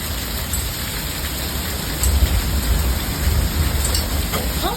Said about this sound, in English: Still hear the hail, but not like it was a few minutes ago.